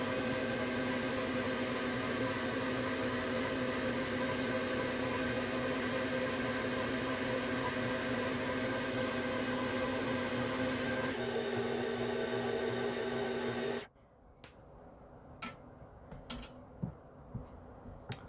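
An electric mixer works wet bread roll dough with a continuous, even motor whir and hum for several seconds, then switches off, followed by light clicks and handling noises.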